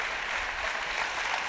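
An audience applauding to welcome speakers onto a stage: steady, dense clapping from a crowd, sustained and even throughout, with no voices.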